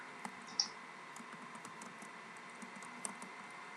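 Quiet typing on a computer keyboard, with scattered soft key clicks and a couple of sharper taps over a low background hum.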